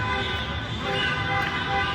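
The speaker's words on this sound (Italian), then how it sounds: "Sentite i clacson che non dovrebbero essere utilizzati ma lo sono" Car horns toot over a steady hum of street noise and vehicles in Italy, with overlapping honks rising from a busy crowd.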